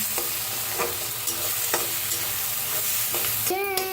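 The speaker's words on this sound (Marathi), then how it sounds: "आता छान मिक्स करून भाजून घेऊया आपण।" Onion masala paste with asafoetida being stirred and roasted in a hot pan, a steady sizzle with repeated scraping strokes of the spoon at a regular rhythm, close and fairly loud, no talking.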